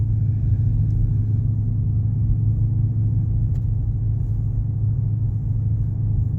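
A 2019 Dodge Charger R/T with an aftermarket exhaust gives off a steady, deep low rumble and drone, heard close and constant with no speech.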